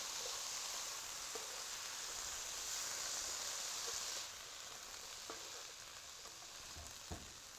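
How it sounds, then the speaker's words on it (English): Peas and corn frying and being stirred in a pan for fried rice, a steady close sizzle with soft scraping stirs and light ticks, easing slightly quieter partway through. "I'm going to add the peas, the corn, into that and just give it a quick stir."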